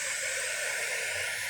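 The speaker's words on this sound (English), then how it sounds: "We inhale through pursed lips." A steady airy hiss of breath drawn in through pursed lips during pranayama practice, one continuous inhale lasting about a second and a half, close and soft, ending abruptly.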